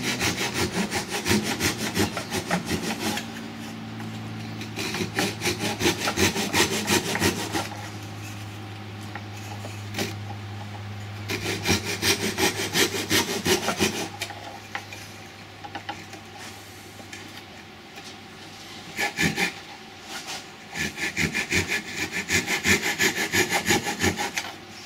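Hand saw cutting through a wooden workpiece mounted on a lathe, a steady rasping back-and-forth stroke in close, loud bursts, pausing briefly between runs of sawing, with a low hum underneath.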